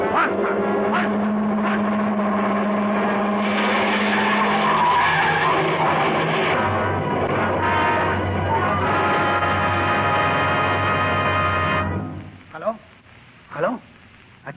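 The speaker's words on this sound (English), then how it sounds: "In my ears was the screeching of brakes, of tires taking a wild curve." Brakes screeching and tires skidding as a car takes a wild curve, a loud sustained squeal over engine roar lasting about twelve seconds, then cutting off into a few faint thuds.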